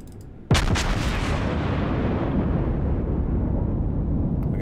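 Battleship Iowa's main guns fire in World of Warships, a sudden huge boom followed by a long rumbling roar and crackle that slowly fades over several seconds, loud and without talk.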